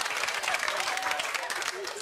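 Audience members at a comedy show clap in a short, moderately loud burst of applause, a brisk patter of hands filling the room.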